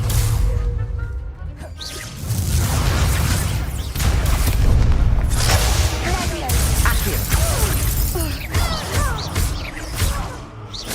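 Spell blasts and whooshing combat effects from Hogwarts Legacy, including a Confringo fire blast, boom in a steady loud wash of game noise under a voice calling out spell names.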